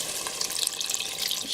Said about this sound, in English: I'm going to be adding some water because I do want it to be pretty liquidy.